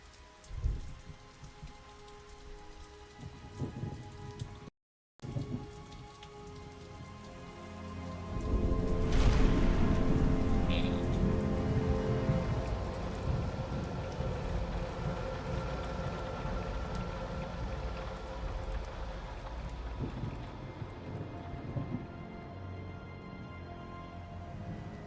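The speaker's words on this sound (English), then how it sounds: "Perpetually raining streets of Gotham" Steady rain falls and patters on surfaces in the video game Batman: Arkham Asylum, with a heavier downpour swelling midway and continuing as a dense, close hiss.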